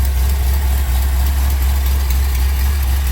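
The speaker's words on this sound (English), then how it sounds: "They do have a little bit of exhaust leak" A 1976 Chevrolet C10 truck engine idles with a slight exhaust leak, a loud steady low rumble with an even airy hiss on top, continuous and close, no voices.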